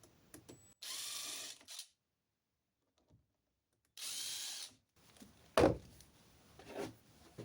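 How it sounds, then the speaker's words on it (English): Power drill with a self-centering bit boring into wood while building a pine CD holder, two short whirring bursts about a second long separated by silence, followed by a sharp knock and light handling clatter, fairly quiet. "So I'm taking my self-centering bit first and just putting that in."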